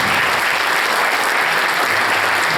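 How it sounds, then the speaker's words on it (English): A Christmas concert audience at Horace Mann applauds steadily and loudly, dense clapping filling the whole stretch without pause. "So have a nice applause, round of applause for Tessa Traxinger."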